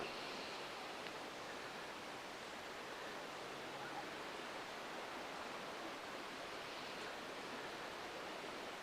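Steady broadband wash of surf rolling onto a beach at a camping spot in Michigan, a continuous even roar with no distinct breaks and no voices.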